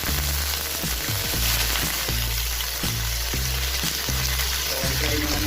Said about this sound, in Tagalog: So, i-fry naman natin siya guys.